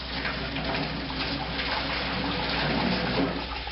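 Sparge water trickles steadily from a cheap sparge arm onto the grain bed during all-grain brewing of a German Pilsener, a constant close splashing wash of liquid.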